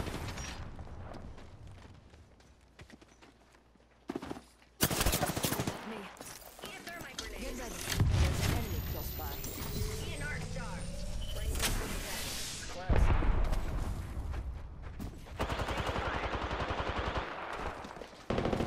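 Rapid automatic gunfire from an Apex Legends firefight rattles in dense bursts, loud and close, with sharp single shots and distant volleys filling gaps throughout a chaotic exchange.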